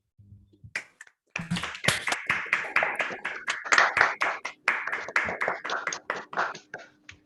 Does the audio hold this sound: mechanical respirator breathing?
no